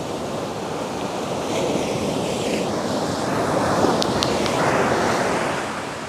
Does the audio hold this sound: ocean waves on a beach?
yes